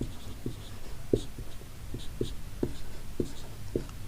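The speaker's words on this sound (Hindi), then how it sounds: "तो यहाँ पर हम समांतर माध्य का सूत्र लिखेंगे" Handwriting of a mean formula in a statistics lesson, with a pen or chalk tapping and scratching in short irregular strokes, close and steady, and no talk over it.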